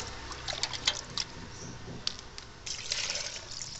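Water poured over green pea peels in a container for liquid fertilizer, a steady close splashing and trickling with scattered brighter splashes, no talk.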